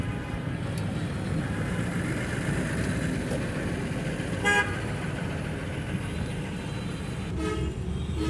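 Dense traffic jam on a city street in Dhaka, with a steady low rumble of idling engines and a few short car horn toots, one near the middle and another toward the end.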